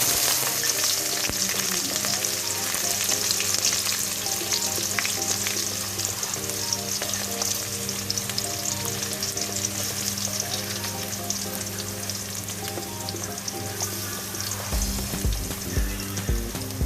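Shallots go into hot oil and sizzle and fry with a dense, continuous crackle for the whole stretch, with a few stirring clatters near the end. The sound is close and there is no talking.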